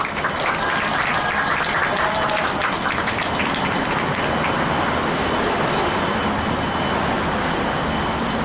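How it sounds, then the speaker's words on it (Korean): Loud, sustained applause from a crowd at an outdoor candlelight rally, welcoming a poet, dense clapping continuing evenly throughout without a break. "힘찬 박수로 모시겠습니다."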